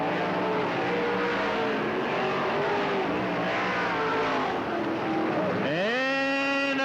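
Stock cars race at Riverside Speedway, also called Cottage Grove Speedway, in 1991, with a loud, continuous pack of engines droning and wavering in pitch, then one car roaring up close near the end.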